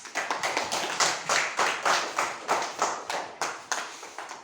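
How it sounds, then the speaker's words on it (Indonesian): A class of students claps together in a classroom, a steady run of sharp, rhythmic hand claps repeating in quick bursts close by, with no talking over it. "tepuk tangan"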